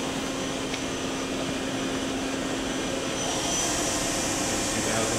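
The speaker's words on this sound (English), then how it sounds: "The spindle is currently running at 1000 RPM. That's the main spindle." The main spindle of a Daewoo Puma 200LMSA CNC turning center spins at speed, a steady whirring hum with a sustained tonal whine and a broad airy hiss that swells slightly toward the end.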